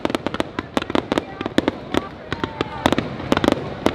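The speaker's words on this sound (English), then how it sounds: "There's some fireworks going on for the nighttime show. They're going off." Fireworks bursting at a Universal Studios nighttime show on New Year's Eve, a rapid irregular string of sharp cracks and pops, with people talking among them.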